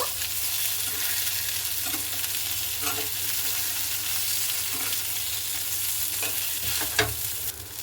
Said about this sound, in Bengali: খুব ভালো মতো করে এভাবে আমি নেড়ে নেব